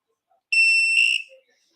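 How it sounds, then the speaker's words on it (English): A small electronic device gives one sharp, high-pitched beep lasting under a second, close and clear against silence, during an auction of sterling and vintage pieces. "Please don't beep at me."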